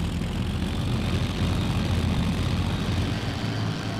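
Propeller aircraft engine in flight in the IL-2 1946 flight simulator, a steady loud droning rumble that holds throughout without talk.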